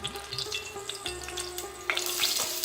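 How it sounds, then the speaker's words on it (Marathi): Chopped onion sautéing in hot oil in a pan for Maharashtrian methi zunka, a steady close sizzle and crackle with a brighter burst of frying toward the end, no voices. "हा चिरलेला कांदा परतून घ्यायचं तेलामध्ये"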